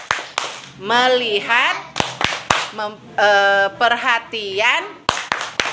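Children clap out a rhythmic clapping game, sharp hand claps in short patterned bursts between chanted call-and-response speech from a teacher and the group.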